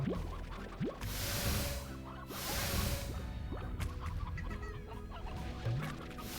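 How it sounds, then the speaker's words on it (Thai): Chickens cluck repeatedly in the Slime Rancher video game, short clucks and squawks scattered over a steady bed of game ambience and music, moderately loud and close. "แล้วเดี๋ยวเราก็ต้องดูดไก่อีกนะครับ"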